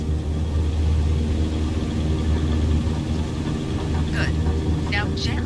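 An airplane engine drones steadily through a takeoff roll in Microsoft Flight Simulator, a loud, continuous low rumble, with brief voice-like chirps near the end.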